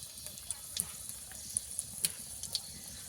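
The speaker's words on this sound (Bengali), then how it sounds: "একটু তেল দিয়ে দেবো কড়ার মধ্যে দেবো দুটো তিনটে শুকনো লঙ্কা কেটে দু আধখানা করে" Dried red chillies, halved, drop into hot oil in a kadai. A faint, steady sizzle carries a few sharp crackles and pops. No voice is heard.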